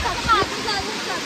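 Rushing water at a waterfall near Lonavala makes a steady, broadband roar that fills the short stretch, with faint voices in the background.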